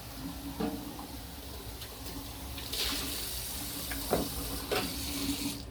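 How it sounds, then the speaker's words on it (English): Cold tap water runs steadily into a sink as a milk frother is rinsed, a constant splashing hiss with a few louder clunks and surges as the frother moves under the stream. "Rinse the frother in cold water."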